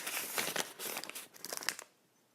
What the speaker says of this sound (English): And you close up the envelope.